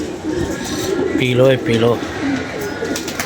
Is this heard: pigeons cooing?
yes